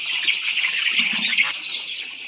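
A Black Australorp chicken clucks softly and continuously up close, with a short sharp click partway through.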